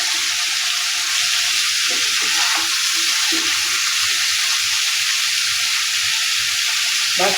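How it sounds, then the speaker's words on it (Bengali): Pointed gourd (potol) pieces frying in hot oil, a loud continuous hiss and sizzle with occasional soft scrapes of stirring, close and steady throughout without speech. "তেলটা আমার গরম হয়ে গেছে আর বন্ধুরা পটলগুলো দেওয়ার পরে আমি এভাবে সুন্দর করে একটু নেড়ে দেবো"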